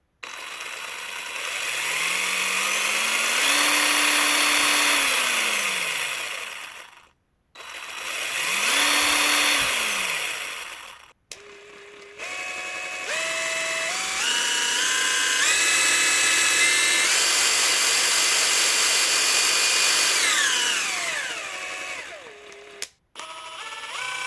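Parkside Performance 400Nm cordless impact wrench spinning up and down under variable-speed trigger control: a loud, close whine that rises, holds and falls in several separate bursts, with short pauses between them and no talking.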